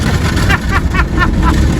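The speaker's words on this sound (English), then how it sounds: "I don't know if you can hear me over the car wash machinery." Automatic car wash machinery runs loud and close, a steady churning roar with rhythmic swishing pulses about every quarter second from the moving brushes or sprays.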